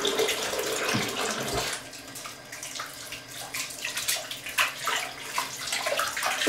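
Cool water runs steadily from a tap while conditioner is rinsed out of virgin hair weave extensions. The hiss and splash are close, continuous and fairly soft, with irregular patter as the stream hits the hair.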